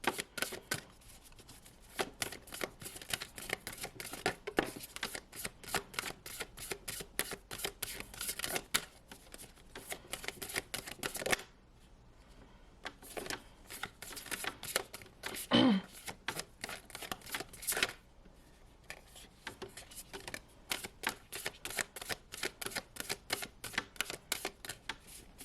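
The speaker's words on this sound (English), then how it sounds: "we're going to give 3 more shuffles at this point" Deck of tarot cards being shuffled during a pick-a-card reading, quiet rapid riffling bursts repeating over and over with short pauses and a few faint voice moments.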